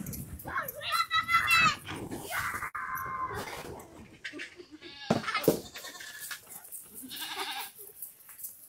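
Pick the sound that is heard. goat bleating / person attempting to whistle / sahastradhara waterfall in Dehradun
goat bleating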